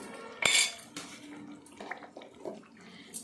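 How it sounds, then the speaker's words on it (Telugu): A spoon clinks and scrapes against a bowl while raw prawn pickle ingredients are mixed, giving a few sharp metallic taps and softer wet stirring noises close by. "ఇప్పుడు మనం ఒక్కసారి ఇలా కలిపేసుకొని మొత్తం అన్నీ కలిసేలాగా"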